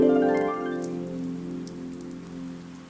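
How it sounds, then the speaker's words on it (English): Gentle rain falls on grass on a gray day, a soft steady patter that continues evenly beneath a fading musical tone. "as gentle rain fell on the grass that gray day"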